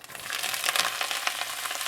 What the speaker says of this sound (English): you want to make sure to get that nice sizzle